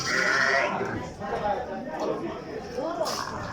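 Lambs bleat at a livestock market in Termez, short wavering cries that rise above a noisy background of people talking nearby.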